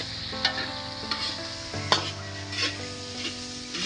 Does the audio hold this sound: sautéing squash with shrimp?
yes